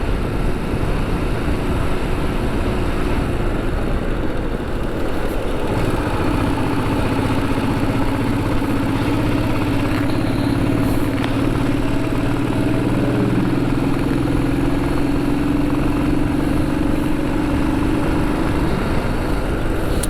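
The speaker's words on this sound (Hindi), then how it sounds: "खड़ी चढ़ाई पे बाइक नहीं चढ़ती है कई लोगों की।" A motorcycle climbs a steep ghat road on the old Pune–Mumbai highway. The engine gives a close, continuous drone that holds steady under load, with no one talking.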